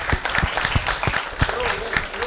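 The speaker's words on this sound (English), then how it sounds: "A big round of applause." An audience claps for the two final teams at a workshop quiz event, a steady patter of applause running throughout with voices mixed in.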